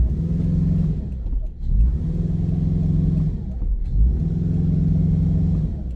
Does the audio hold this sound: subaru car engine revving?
yes